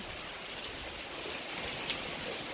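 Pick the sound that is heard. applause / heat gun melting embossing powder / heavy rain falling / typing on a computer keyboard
heavy rain falling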